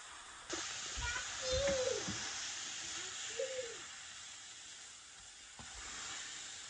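Bitter gourd and potato frying in a pan over medium-high heat, faint and steady hissing close by, while a person talks softly over it.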